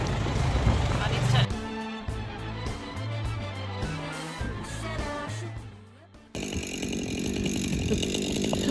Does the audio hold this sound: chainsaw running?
yes